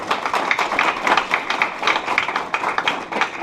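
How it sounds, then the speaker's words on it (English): An audience at a school board forum applauds steadily, a dense patter of many hands clapping at moderate volume with no voices over it. "a round of applause for them as well"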